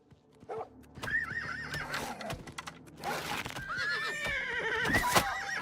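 A horse whinnies repeatedly, loud and close, with hoof clip-clops and other busy game sounds mixed around the neighs, in the video game Oblivion Remastered.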